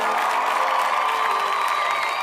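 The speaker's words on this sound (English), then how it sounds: "Hand claps." A live audience claps and cheers together, a dense continuous roar of applause and whoops at close range that stays steady throughout.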